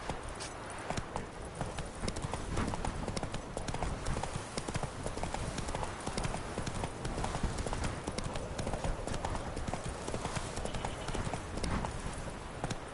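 Horse Roach's hooves clip-clopping in The Witcher 3, a steady brisk run of hoofbeats lasting the whole stretch, close and fairly loud over faint background.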